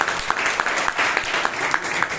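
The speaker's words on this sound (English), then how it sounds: "give them a big round of applause" A Toastmasters meeting audience in Bangalore claps in a big round of applause, a steady, moderately loud wash of many hands with a few sharper individual claps standing out.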